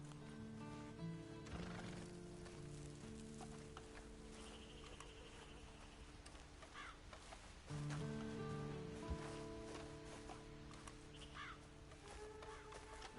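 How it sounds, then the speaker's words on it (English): A video game horse neighs and its hooves clop against a steady ambient backdrop with crow caws and rustling, the whinnies recurring through the scene, no speech. "And you better get on this horse."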